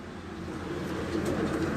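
Breeder pigeons coo in low, soft repeated calls from a loft, heard nearby over a steady background hum with no talk.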